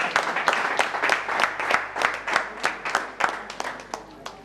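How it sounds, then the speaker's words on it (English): An audience at a producers' general meeting claps in a steady, quick rhythm, roughly four claps a second, with crowd murmur and voices underneath, close and moderately loud. "I want you to clap for this organization."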